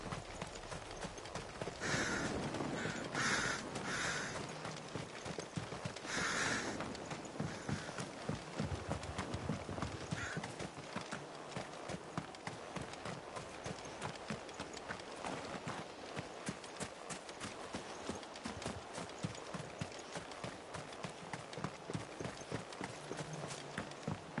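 Horse hooves clip-clop steadily at a riding pace in Final Fantasy XVI, close and continuous over a low rumble of outdoor ambience, with no talking.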